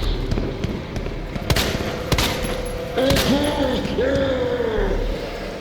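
Gunfire in the video game Resident Evil 2 Remake: a few sharp shots ring out over game ambience and someone talking, followed by a rising creature-like tonal sound.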